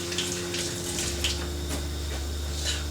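Tap water runs steadily into a kitchen sink as frozen cayenne peppers are rinsed under it, a close continuous splash and hiss lasting a few seconds with no talking.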